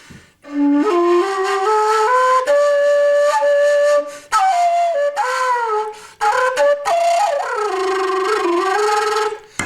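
A breathy rim-blown flute, overblown into its higher register, plays a melody with sliding, bending notes and brief breath pauses, sounding close and fairly loud.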